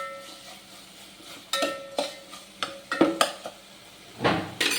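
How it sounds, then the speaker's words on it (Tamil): Ginger, green chili, cumin, rice and chana dal sautéing in a pan, a quiet sizzle under a string of sharp spoon taps and scrapes against the metal, close and fairly soft. "இஞ்சி, பச்சை மிளகா, ஜீரகம், அரிசி, கடலைப்பருப்பு இதெல்லாம் பச்சை வாசனை போகிற அளவுக்கு வதக்கணும்"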